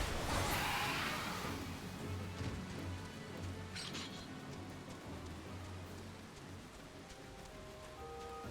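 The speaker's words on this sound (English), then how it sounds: "For this being a desert, it seems to rain a lot on this map." Rain falls steadily on a desert map in the game Final Fantasy XIV. A dense patter starts loud, then eases to a softer constant hiss, with a faint low rumble underneath and no talking.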